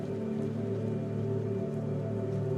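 Steady heavy rain pours down during a stormy scene in the video game Dispatch, a dense, unbroken hiss with a low droning rumble underneath and no pauses.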